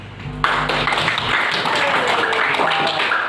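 Audience clapping in a classroom music-teaching session, a dense, steady burst of applause that starts sharply and holds at even loudness, with a brief voice in the background.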